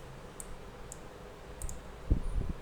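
A computer mouse clicks a few times, sharp faint ticks spaced apart while working in Microsoft Word, over a quiet room hum with some low bumps near the end.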